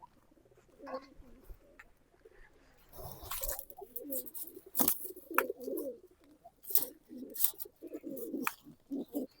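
Teddy pigeons coo in a loft of old-breed high-flyer pigeons, soft rolling coos repeating close by among rustles and a few sharp flutters, with faint voices underneath.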